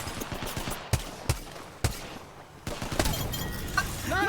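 Rapid pistol gunfire in the Apex Legends video game, dual pistols: several sharp, loud shots spaced irregularly over a constant din of background game noise.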